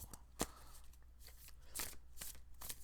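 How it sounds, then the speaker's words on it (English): A deck of tarot cards shuffled in several quick riffling bursts, close and fairly quiet, with no talking. "However, I will shuffle again."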